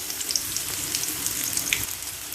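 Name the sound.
garlic paste frying in oil with bay leaves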